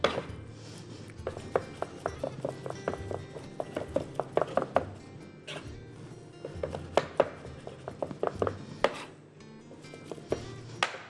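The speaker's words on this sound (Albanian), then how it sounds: "e presim imët fare me thik që pret mirë dhe e bëjmë ato të coptuar" A sharp knife finely chopping food on a board, rapid irregular bursts of crisp knocks close up, pausing briefly between runs.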